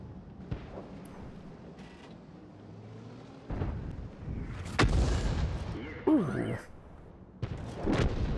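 Tank guns firing in a World of Tanks battle, several heavy booming shots spaced a second or two apart over engine rumble and battlefield noise, with someone talking in between.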